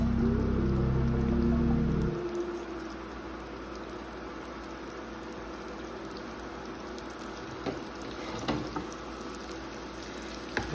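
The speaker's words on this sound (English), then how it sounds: "Add all your onions." Onions land in a pot with a heavy low rumble for the first couple of seconds, then settle into a soft, steady crackle as they cook, with a few faint clicks near the end.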